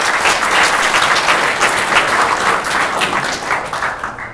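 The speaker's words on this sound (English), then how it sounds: "I'd like to suggest a round of applause for them." An audience claps steadily at a tech meetup, dense applause holding for several seconds before tapering slightly near the end, with no talk over it.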